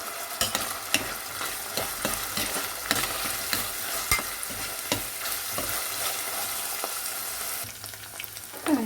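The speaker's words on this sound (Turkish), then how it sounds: "Sıvı yağını ekler eklemez hemen soğanlar ve sarımsaklarımı da ilave ediyorum. Şimdi bunları güzelce kavuracağım." Onions and garlic sauté in hot vegetable oil for a spinach dish, with a continuous close sizzle broken by repeated sharp knocks and scrapes of a stirring spoon against the pan. No one speaks.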